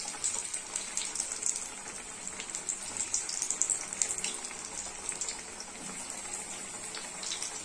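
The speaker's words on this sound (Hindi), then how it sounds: "हम ऐसे दूसरे पीस को ऐसे तेल में एक एक करके डाल देंगे।" Snack pieces dropped one by one into hot oil, fried as part of crispy potato-sabudana sandwiches, giving a loud, busy, crackling hiss with irregular popping bursts throughout, no speech.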